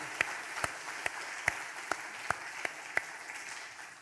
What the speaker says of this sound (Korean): 다시 한번 박수로 그분을 향하여서 축복의 박수를 올려드립니다